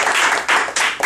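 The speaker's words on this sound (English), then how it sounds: "let's give him a round of applause for that." Brief burst of audience applause from a crowd, loud and dense with a few surges of clapping over about a second, no speech.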